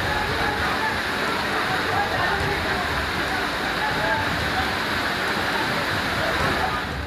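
Floodwater from heavy rain rushing through a street in Jodhpur, a steady, even wash of rushing water at moderate level throughout.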